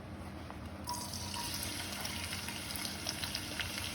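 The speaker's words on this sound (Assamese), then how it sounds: "প্ৰথমতে মই ইয়াত পিঁয়াজ আৰু কেঁচা জলকীয়াখিনি পেলাই দিছোঁ।" Onion and green chilli sizzling in hot oil over medium-low heat, a steady dense crackle that jumps up after the first second and keeps going evenly with small pops.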